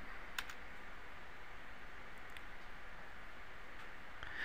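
Keys tapped on a computer keyboard while entering a zip code, a few soft, close clicks in quick succession at the start and again near the end over a quiet room hiss.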